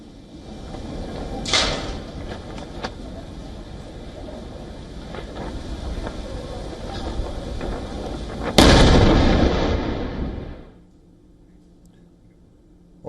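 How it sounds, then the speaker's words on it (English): Iranian missiles striking the Israeli port city of Haifa, a low rumbling background with distant thuds, then a sudden loud blast near the end that roars and fades away. "Visuals show Iranian missiles striking the Israeli port city of Haifa."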